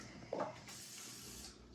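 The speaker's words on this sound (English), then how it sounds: "So this is called the kitchen spritzer." A pump-pressurized kitchen spritzer sprays in a steady, close hiss lasting about a second, preceded by a brief soft thump as the spray begins.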